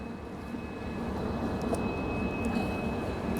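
A train entering Channarayapatna railway station on the Mangaluru to Bengaluru line, a continuous rumbling roar heard from inside the coach, steady and moderately loud with a faint high whine running through it.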